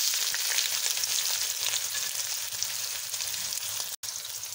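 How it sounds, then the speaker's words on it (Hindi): Chopped onions fry in hot oil in a home kitchen pan, giving a steady, continuous crackling sizzle close up with no talking. "थोड़ा सा ऑयल डाल दें, ऑयल हमारा गर्म हो गया। अब जो मैंने प्याज काटा था वो डाल दें।"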